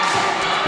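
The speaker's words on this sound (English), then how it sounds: "The crowd is getting loud." Crowd at a women's college basketball game in Largo, a loud, continuous roar of cheering voices with a ball bounce thudding underneath.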